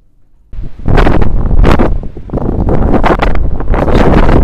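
Strong wind buffets the microphone with loud, roaring gusts that rise and fall after a brief quiet start.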